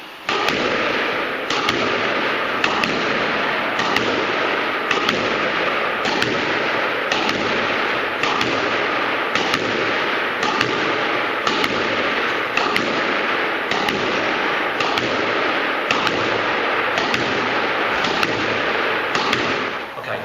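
Repeated sharp smacks of a squash ball off the court walls in a solo figure-of-eight drill played on the bounce, a steady, evenly spaced rhythm of close, loud impacts running throughout with no talking.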